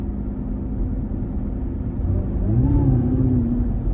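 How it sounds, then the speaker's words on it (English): A 640 hp supercharged Cadillac CTS-V under part throttle, its engine rumble building and a supercharger whir rising in pitch near the end, steady and close with no talk over it. "the whir you hear just when you put your foot halfway into it, that supercharger"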